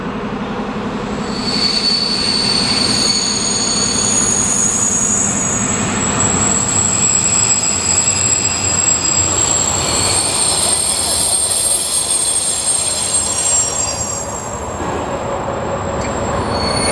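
A Czech class 854 railcar train rolls along the tracks at Znojmo, loud and close, with sustained high wheel squeal and rumbling throughout.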